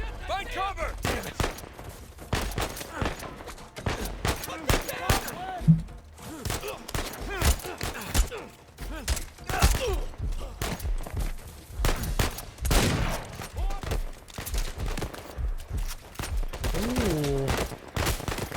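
Sniper and other gunfire in the game Uncharted 4, sharp shots cracking repeatedly and irregularly through a chaotic firefight, mixed with shouting voices and loud bursts throughout.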